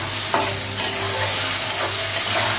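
Spice masala with coriander powder and salt fries loudly in a pan on the gas, its dense sizzle broken by repeated stirring and scraping strokes.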